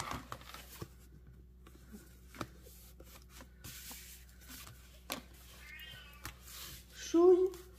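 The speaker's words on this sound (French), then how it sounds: "le chat est en train d'essayer de rentrer dans l'armoire" A house cat trying to get into a wardrobe. Scattered soft knocks and scrapes lead to a short, close meow near the end, in a quiet room.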